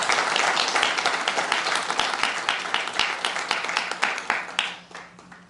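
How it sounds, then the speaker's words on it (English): Audience applause at an emergency preparedness workshop in Toronto, many hands clapping in a lively, slightly uneven patter that stays strong, then thins and fades out toward the end. "Let's give a round of applause for them"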